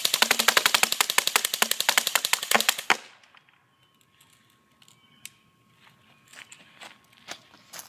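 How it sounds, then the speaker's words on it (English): An airsoft BB gun fires full auto in a rapid, loud burst of evenly spaced sharp clicks lasting about three seconds, then stops; a few faint scattered ticks and impacts follow in near silence. "Now I'm just going to go full auto on it and destroy it practically."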